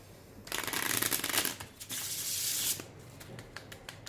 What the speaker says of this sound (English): Let's give it a nice shuffle once again.